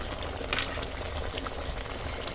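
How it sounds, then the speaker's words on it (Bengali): A steady bubbling simmer of thick fish head curry in a pan, continuous and close, with faint spatter throughout. "দেখো মুড়ো কষা ফুটছে"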